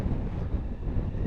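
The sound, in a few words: wind blowing around motorcyclist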